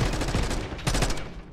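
Rapid automatic gunfire in Call of Duty: Black Ops 6, a close, loud rattling burst of shots with a short pause before another quick volley.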